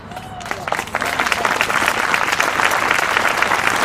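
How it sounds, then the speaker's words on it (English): Applause at an outdoor skatepark vigil, a crowd clapping steadily and building to a full, dense wash of claps that continues to the end. "I'm glad that got applause."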